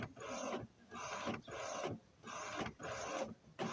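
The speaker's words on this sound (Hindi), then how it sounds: "आप देख सकते हैं अभी हमारा प्रिंट निकल रहा है" An Epson L3250 wifi printer runs through a print job, its mechanism whirring in steady bursts separated by short pauses, loud and close with no one talking.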